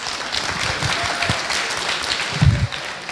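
An audience claps and applauds steadily through a religious talk on Islamic outreach, a dense, even patter of many hands at moderate volume with a brief louder swell near the end.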